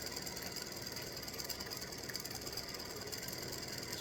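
An embroidery machine stitches out a free-standing lace Halloween gnome mummy earring, giving a steady rapid mechanical whirring and needle chatter throughout, close and continuous with no voices.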